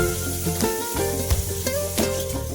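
Small mourola fish fry in hot oil for a Bengali sour dish, a steady close sizzle broken by several gentle spatula stirs and scrapes.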